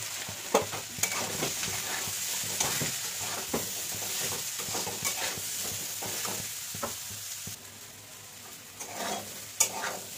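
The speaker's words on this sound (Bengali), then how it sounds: "এঁচোড়টা ভালো সুন্দরভাবে এইভাবে ভেজে নিতে হবে।" Young jackfruit fries in a pan with salt and turmeric, giving a continuous sizzle broken by frequent scraping stirs, close and steady throughout with no voices.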